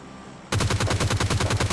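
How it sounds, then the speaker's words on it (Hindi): A rapid burst of automatic gunfire in PUBG Lite, the game shooter, bursts in after a quiet moment and hammers on in an even, loud, close rhythm of about a dozen shots. "अब यहाँ पर देखो ओल्ड बेसिन की साइड से भी गन सोर्स वगैरह आ रहे थे मेरे को"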